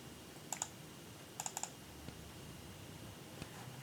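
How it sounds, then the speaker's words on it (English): Quiet computer mouse clicks, heard as two separate double clicks close together in a silent room, followed by a couple of fainter single ticks. "So double click"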